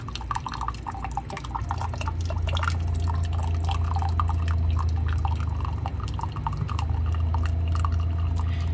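Water trickles slowly from a countertop reverse osmosis filter dispenser into a container, a steady thin stream with faint dripping and a low hum running underneath.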